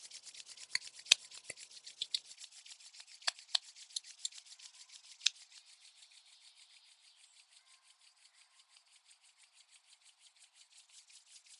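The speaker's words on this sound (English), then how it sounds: "rub your hands together" Hands rubbed briskly together, a close, steady dry swishing friction with a few sharper skin taps early on, then a faster, softer rhythmic rubbing that continues alone in a quiet room.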